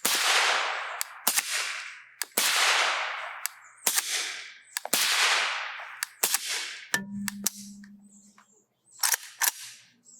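Supersonic rounds fired from an AKM rifle with a Dead Air PBS1 suppressor at dirt 25 yards away, about five loud sharp cracks at a steady pace, each with a decaying tail, mixed with metallic clicks and clinks.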